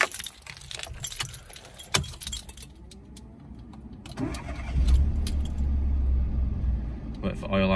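A Citroen C1 is started during a DIY oil service, with keys jangling first, then a short crank and the small engine catching into a steady, low idle that runs to the end.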